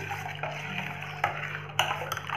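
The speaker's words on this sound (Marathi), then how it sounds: "व्यवस्थित मिक्स करून घ्यायचं." Spicy pani puri water is stirred in a bowl, with soft liquid swishing broken by a few sharp clinks of the spoon against the vessel, close and quiet over a faint background hum.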